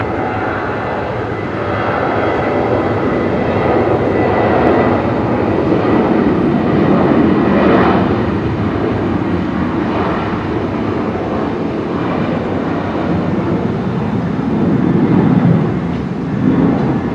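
A Qantas airliner lands on runway 01 right at Brisbane Airport at twilight, a steady, loud, broad engine roar that swells slightly and holds for the whole stretch, with no voices over it.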